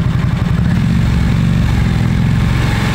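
A Harley-Davidson RH975 Nightster idles close up through a road-legal JMCA/Euro-spec muffler, giving a steady, loud, low throbbing rumble with no talk over it.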